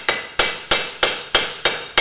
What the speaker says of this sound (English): just hammer it down to that flat section of that jaw right there